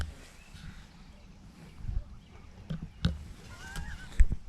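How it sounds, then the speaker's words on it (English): Distant geese honking in scattered calls over a low outdoor rumble at a lake, with a few louder honks near the end. "geese are here."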